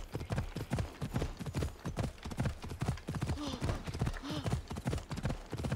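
Horse hooves clip-clop in a steady galloping rhythm through Assassin's Creed Odyssey, a ridden horse moving fast, loud and continuous with occasional game sounds layered over it.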